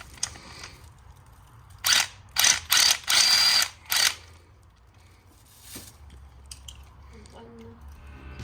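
Ratchet clicking in several short bursts while spark plugs are loosened on a Mazda Miata, close and fairly loud, separated by quieter pauses with faint handling noise.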